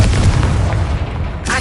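Confringo blasting spell in Hogwarts Legacy on PS5, a loud booming explosion with a deep rumbling burst that fills the brief moment and tails off, with a voice calling out at the start.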